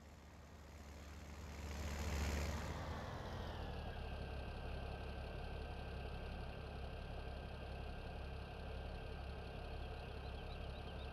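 A tractor engine in Farming Simulator 17 revs up briefly, then settles into a steady, droning idle that holds at an even level for several seconds, with a faint high whine above it and no talking.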